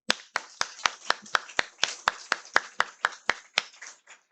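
A church congregation claps in a steady rhythm during a Sunday worship service, about sixteen sharp, evenly spaced handclaps, loud and close, with no talk over them.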